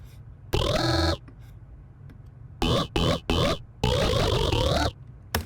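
A synth bass run through a formant filter gives a grunting, almost organic vocal tone, played in short separate phrases with silent gaps between them, loud and close.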